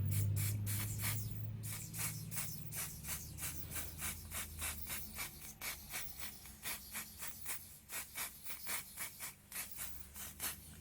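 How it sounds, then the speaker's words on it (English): Spray foundation is misted onto a face in a rapid series of close, hissing pumps, starting as a longer burst and settling into a steady rhythm of short sprays. "It actually just feels like you're spraying water on your face."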